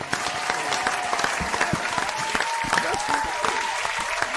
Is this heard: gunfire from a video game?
no